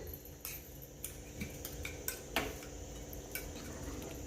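Cowpeas in a Marathi-style chavli usal curry are stirred in a pan over a low flame, with a spoon clinking and scraping against the metal in scattered taps and a faint steady background hiss.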